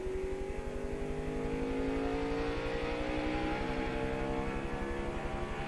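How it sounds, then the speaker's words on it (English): A race car engine at the 2002 NBS Kroger 200 at IRP, with an exhaust leak, drones and revs under throttle lift, a strong buzzing tone with shifting pitch, heard from a distance without talk. "when he backs off the throttle, that's just a little bit of backfiring, I think"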